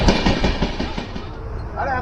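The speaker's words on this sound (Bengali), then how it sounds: "এত স্পিডে টানছে ট্রেন" The Santiniketan Express, train 12338, runs at speed near Belur on its way to Howrah, giving a loud rushing rumble with quick rhythmic wheel clatter close by inside the train.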